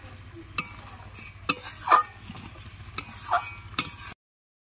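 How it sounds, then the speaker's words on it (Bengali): Spice paste mixed with water is stir-fried in a pan for a raw jackfruit curry, heard as soft sizzling broken by sharp spatula scrapes and knocks against the pan at irregular intervals, with no talk, before falling silent. "মশলাটা ভালো করে কষিয়ে নিলাম"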